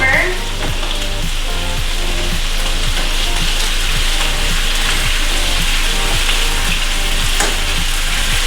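Beef ribs sizzle and spatter steadily in a hot pan while being flipped during cooking for a Locro meat stew, a loud, continuous frying hiss with faint scraping and knocking underneath.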